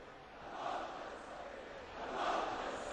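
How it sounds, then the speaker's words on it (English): A large crowd chants slogans in unison at a mass rally during a Nasrallah speech on Gaza, a loud, continuous roar of many voices that swells twice in rhythmic waves. "We're hearing chants now of death to Israel by those who are present, by the crowds"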